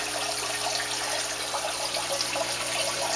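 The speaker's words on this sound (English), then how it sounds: "You see the water building up in it" Steady rushing and trickling water as a home aquaponics tank slowly fills, with a constant low hum underneath and no voices.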